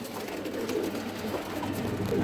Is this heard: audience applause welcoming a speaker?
no